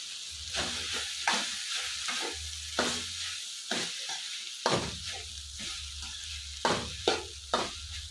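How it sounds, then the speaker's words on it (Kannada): Cooked, cooled rice is stirred into a soya and spinach masala in a pan, with repeated spoon scrapes and stirring strokes over a quiet sizzle, arriving in irregular bursts. "ರೈಸ್ ಆಲ್ರೆಡಿ ಮಾಡಿ ತಣ್ಣಗೆ ಇಟ್ಕೊಂಡಿದ್ದೀನಿ, ಹಾಗಾಗಿ ಅದು ಈಗ ಸರಿ ಆಗುತ್ತೆ ನೋಡಿ ಕಲ್ಸೋದಿಕ್ಕೆ."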